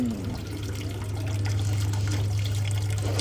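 Water runs and trickles steadily into a container nearby while preparing corn rice, a constant splashing flow over a low background hum.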